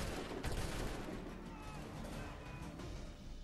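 A quick burst of gunfire in Assassin's Creed III, with a few sharp shots near the start and a rough, noisy game mix underneath.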